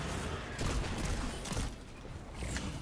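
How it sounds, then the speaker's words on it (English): Heavy tracking cannon fire during a Destiny 2 Forsaken boss fight, a dense, sustained barrage of booming shots and blasts with bright bursts of impact, steady and loud throughout with no talk. "a pretty darn big tracking cannon"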